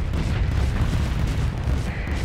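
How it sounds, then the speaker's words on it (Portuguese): Explosions in the space combat game Starsector: loud, deep rumbling blasts rolling continuously with a heavy low-end roar. "Boa tem coisa explodindo aí."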